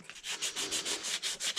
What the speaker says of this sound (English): the next thing I'm going to do is do the final sanding on this plug